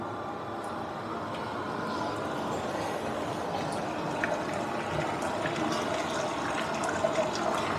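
Wort draining from a raised grain bed during a Czech premium pale lager brewday, a steady trickling, rushing flow of liquid heard close and continuous with no talk.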